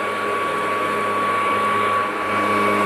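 Stiga Aero cordless hover lawn mower running close by, a steady whirring motor and fan hum like a vacuum cleaner, continuous and loud with slight dips as it moves over grass.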